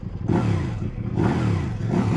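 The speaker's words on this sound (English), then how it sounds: "Even with the stock exhaust, this has some really meaty grunt to the sound on this." A Kove 800X Rally motorcycle with stock exhaust pulls hard in rising, throaty surges with a deep exhaust growl, close and loud, no talking.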